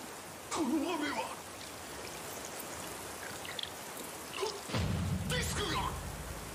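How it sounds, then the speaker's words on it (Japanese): Steady rain hisses through the JoJo's Bizarre Adventure: Stone Ocean video game, a dense wash that swells louder partway through, with faint voice-like tones and effects layered over it. "こいつ、ウェザーリポートに雨を降らさせやがった。"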